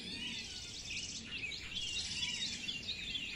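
A cartoon bird chirps in quick, bright tweets, a fairly soft, continuous twittering with no speech.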